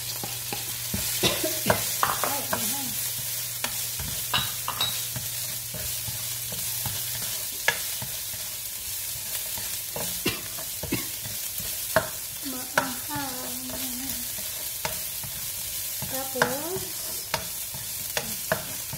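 Dried anchovies (dilis) fry in a pan as they are stirred, a constant close sizzle with repeated scraping and tapping of a utensil against the pan.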